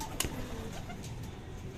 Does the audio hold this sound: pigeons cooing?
yes